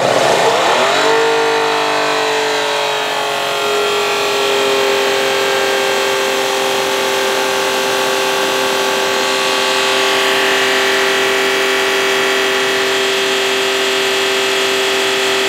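A battery-powered electric pressure washer runs steadily at about 2200 PSI at the wand, a loud sustained motor whine with a strong tonal hum and hiss that starts up and settles into an even drone, with no talking.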